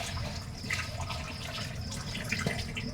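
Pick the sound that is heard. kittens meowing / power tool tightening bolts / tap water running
tap water running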